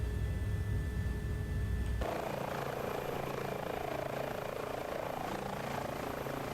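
An Airbus H145 helicopter in Microsoft Flight Simulator drones steadily in flight, a continuous rotor and turbine roar that shifts tone abruptly early on and then holds even, with no voices.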